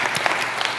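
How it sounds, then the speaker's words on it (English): A brief burst of applause rises from an audience at a venture capital panel discussion, dense and even, lasting under a second. "Oh yeah, we'll get a round of applause."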